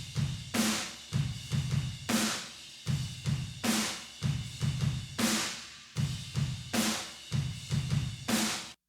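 Drum kit room microphones capture a steady groove mixed with heavy kick and snare, a booming kick and cracking snare repeating in a regular pattern for about nine seconds with roomy ambience and no talking.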